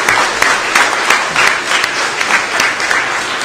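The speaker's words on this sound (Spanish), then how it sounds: "Un aplauso para esta visita y muchas gracias." Loud, close audience applause for visitors, dense rhythmic clapping throughout with no talk.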